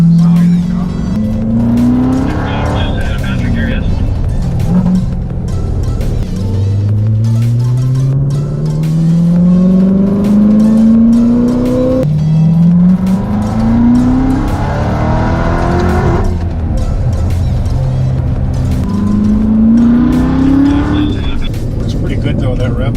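A Chevrolet Corvette ZR1 with a stock V8 exhaust revs repeatedly on a race track, its engine note climbing in long, loud sweeps and dropping between gear changes, with people talking over it.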